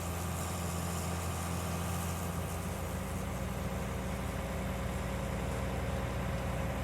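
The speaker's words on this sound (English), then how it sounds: "I think they call this a tractor, but I'm not entirely sure on that anymore." A tractor engine idles in the video game Farming Simulator 19, giving a constant low rumbling drone. It sits under a dense layer of steady ambient noise, with no voices.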